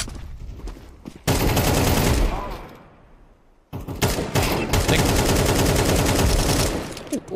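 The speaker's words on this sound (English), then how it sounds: "I just shot through my teammate's leg so many times." Rapid automatic gunfire from Counter-Strike 2 rattles in loud, dense bursts, pausing briefly before another long sustained volley.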